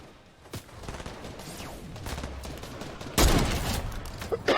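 Dense gunfire in a video game squad battle, with bursts of rapid shots and sharp individual cracks, loud and close, swelling into a heavy blast near the end, with no speech.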